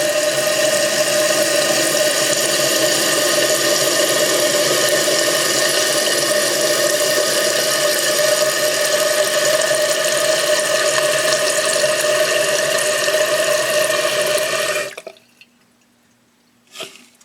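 A toilet tank refilling through a newly installed fill valve makes a steady, loud hiss of rushing water for about fifteen seconds, then cuts off abruptly into near silence with a faint trickle.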